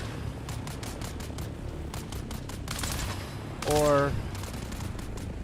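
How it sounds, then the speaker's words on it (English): Gunfire from a gang gunfight in the video game Dune, with bursts of rapid shots at middle distance, one louder close burst, and a voice briefly speaking. "there is a battle happening, gunfire, lots of shots fired"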